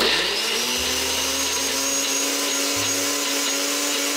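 A kitchen blender runs close by, a loud, steady motor whir whose low drone shifts pitch a couple of times as the speed changes.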